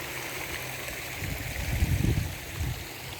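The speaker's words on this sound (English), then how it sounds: "It rained last night, so we got a bit of drainage going on here. Going over the side there. Top of a waterfall." Rainwater trickles and gurgles as it drains over the lip of a waterfall atop Table Rock in Oregon, a steady close water wash that swells a little midway, with no voices.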